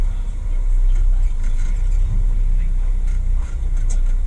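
A truck engine rumbles low and steady while driving, with constant road noise heard from inside the cab and no speech.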